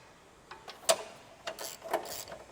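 A hand ratchet clicks close by as bolts are snugged up on a Mercedes C63, giving a few short, quiet clicks and ratcheting sweeps spaced irregularly over a faint background.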